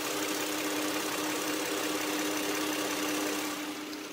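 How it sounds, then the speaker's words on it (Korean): Hyundai Grandeur HG LPI V6 idling with the hood open, a steady, smooth and quiet hum that holds evenly throughout with no talk. "엔진 소음 먼저 들려드리면은"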